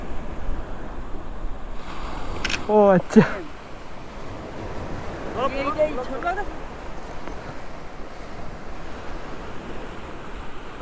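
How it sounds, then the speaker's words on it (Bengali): Sea waves roll in at high tide on Dublagadi beach in Odisha, a steady wash of surf with wind across the microphone, with people talking briefly nearby. "জোয়ার হচ্ছে, জল উপরের দিকে এগিয়ে আসছে, মানে জোয়ার হচ্ছে।"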